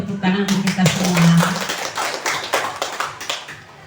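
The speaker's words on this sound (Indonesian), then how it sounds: "tepuk tangan untuk kita semua" An audience at a school event at SMP Negeri 12 Kota Bekasi claps as a loud burst of scattered, irregular hand claps that trails off over a few seconds. A voice speaks at the start.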